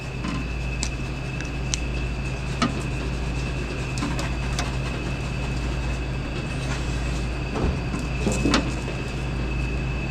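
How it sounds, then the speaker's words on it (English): A room air conditioner in hot Florida weather makes a steady, loud hum and broadband whoosh throughout, with faint clicks and knocks from work nearby on top; no talk. "I apologize for the background noise, but we need to leave the AC on."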